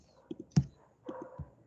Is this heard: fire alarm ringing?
no